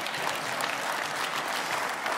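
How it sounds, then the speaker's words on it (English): Congregation at a church service applauding, a steady dense wash of many hands clapping at once, continuous and evenly loud from start to finish with no voices rising above it. "Even my mom would not clap for that, so you shouldn't either."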